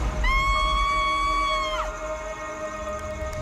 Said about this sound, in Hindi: अगले ही पल एक औरत के चीखने की आवाज आती है